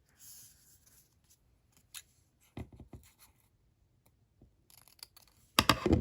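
Scissors trim scrap paper for journal embellishments in a quiet room, giving a few soft, scattered snips and a louder crunchy cut at the end.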